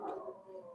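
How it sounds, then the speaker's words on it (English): A dog at home gives a brief, faint, drawn-out cry in the background, lasting under a second, with no talk over it. "sorry, that's my dog."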